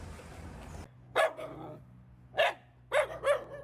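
Stray dogs at Wat Nong Bua Thong, a Thai temple, give four short barks: one, a pause, another, then a quick closing pair, fairly near and alone over a low steady hum.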